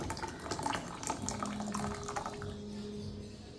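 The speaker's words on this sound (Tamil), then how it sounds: "இப்போ வேறொரு பாத்திரத்தில் கரைச்சி வச்ச புளி தண்ணியை சேர்த்திக்கலாம்." Tamarind water pours steadily into a pot of rasam with a gurgling, splashing flow that settles toward the end.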